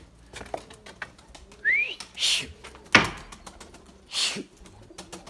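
Pigeons, including a white hen with young, give a few soft coos and rising whistly calls at close range, separated by quiet pauses and a sharp click or knock.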